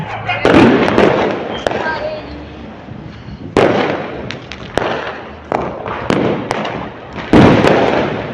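Diwali fireworks set off from a windy third-floor rooftop, sharp bangs and crackling bursts coming in several loud clusters, with voices talking between and over the blasts.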